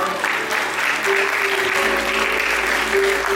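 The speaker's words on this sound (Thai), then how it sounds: "ขอเสียงปรบมือดังๆให้กับสปอนเซอร์ทุกท่านด้วยครับ" Loud, sustained applause from a crowd at a provincial beauty pageant crowning event, many hands clapping steadily and evenly throughout, with a faint tone running underneath.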